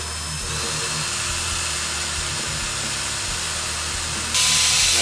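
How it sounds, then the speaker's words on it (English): Paint for a DYC dip kit being mixed for a car, heard as a steady whirring, hissing drone like a drill-driven mixer running continuously and close, growing louder near the end. "Mixing the paint up."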